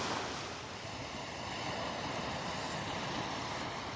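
Ocean surf rolls in on Delnor-Wiggins beach as a continuous, moderately distant wash of waves mixed with light wind noise, with no voices over it.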